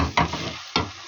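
Food being stirred in a cooking pot with garam masala just added, two short scraping strokes close by against a soft sizzling background, no voices.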